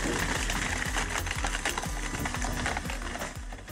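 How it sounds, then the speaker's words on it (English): A giant hydraulic wood splitting machine runs, a rapid, regular mechanical clatter with a low rumble underneath, steady and moderately faint. "Behold this giant wood splitting machine."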